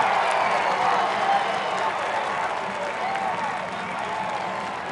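A college lacrosse stadium crowd roars and applauds after a goal in a Virginia versus Notre Dame game, a broad sustained wall of cheering and clapping that stays loud and steady, slowly easing toward the end.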